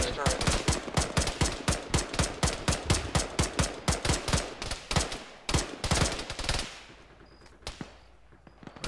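Rapid bursts of gunfire in a military video game, fired at an enemy turret: a fast, loud, evenly paced string of shots for about seven seconds, then fading into a quieter tail.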